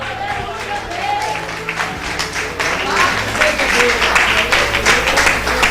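A church congregation applauds during an evening service, clapping that builds from scattered claps to a dense, loud wash, with voices and crowd noise mixed in underneath.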